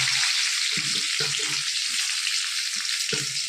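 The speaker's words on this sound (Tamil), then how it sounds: "பெரிய வெங்காயம் 2 கருவேப்பிலை போட்டிருக்கேன்" Two large onions and curry leaves fry in oil with popped mustard seeds and urad dal, a dense, steady sizzle throughout with a few soft low knocks of stirring.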